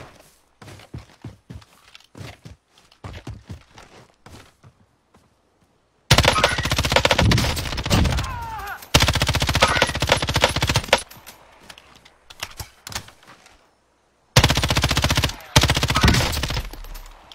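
Bursts of machine gun fire from a Call of Duty match, loud dense volleys around the middle and end after quieter scattered thumps and footsteps, with no talk.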